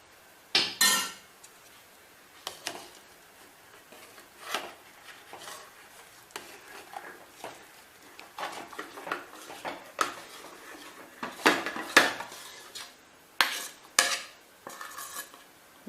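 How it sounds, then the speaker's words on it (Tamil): A spoon scrapes and knocks against a cooking pot as sweet potato is stirred in over low heat, giving irregular clinks and scrapes with quiet gaps, some louder clacks near the end, and no voices. "இப்போ இந்த சக்கரவள்ளி கிழங்கு இதை வந்து நம்ம அதில் போட்டு கலந்து விடலாம்."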